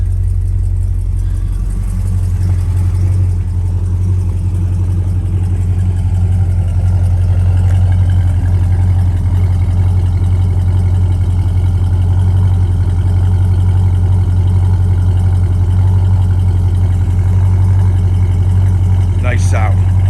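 A 1969 Dodge Charger engine idles with a deep, steady, loud rumble close by, holding an even throb throughout with no clear rev swell; a voice speaks briefly over it.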